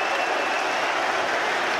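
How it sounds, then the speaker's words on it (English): Boxing arena crowd at a Josh Warrington v Lee Selby fight in Leeds, cheering and applauding in a dense, steady wash of noise that holds evenly throughout, with no distinct voices standing out. "Delirious reaction from the crowd."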